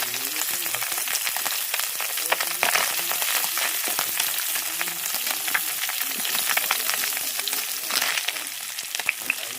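Fish fries in hot oil for a village-style curry, a loud, dense crackling sizzle running throughout with sharp pops scattered across it. The sound is close and constant, and nobody speaks.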